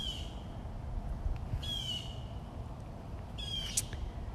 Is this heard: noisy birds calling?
yes